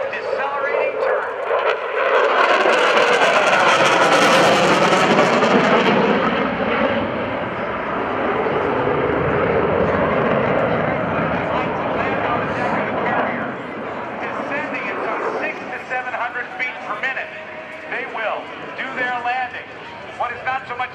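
An F/A-18F Super Hornet jet roars past at an airshow during a fast 360-degree decelerating carrier break turn, its engine noise swelling loud, then fading, with a narrator talking over it.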